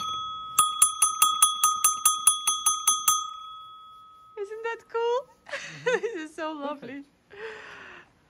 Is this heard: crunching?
no